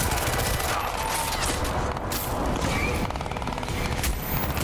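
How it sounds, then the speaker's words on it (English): Dense, continuous video game gunfire crackles through a busy battle soundscape, with rapid bursts layered over booms and noise, loud and close throughout. "I hear gunfire."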